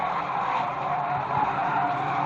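Race car skidding after being taken out by another car at Fleet Raceway, a steady broad roar of tyres and engines running for the whole stretch at close range, with no voices.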